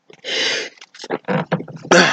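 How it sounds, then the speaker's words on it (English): A single loud sneeze bursts out up close, followed by a few quick breathy, throaty sounds. "Sorry, sneeze."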